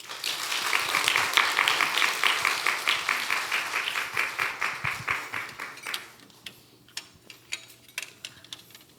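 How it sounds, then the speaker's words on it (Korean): A church congregation applauds missionaries at a Friday evening worship gathering, a dense burst of clapping that peaks early and then thins out into scattered, fading claps. "박수 한번 주십시오."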